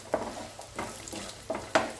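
Coconut sizzles frying in a pan with a few scraping stirs at irregular moments, close by, no voices.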